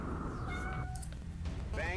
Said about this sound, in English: My cat's being adorable again.